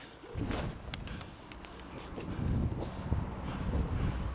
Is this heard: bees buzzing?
no